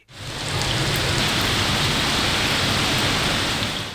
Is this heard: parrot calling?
no